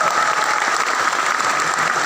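Dense, continuous applause from a large audience at a national coordination meeting in Palangka Raya, loud and even throughout with no voices over it.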